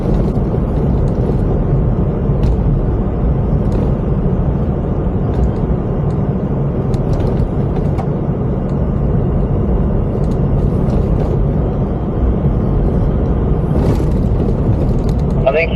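A car rolling over a rough graded road at roadworks, a loud continuous rumble and rattle of tyres on loose surface throughout, with people talking over it.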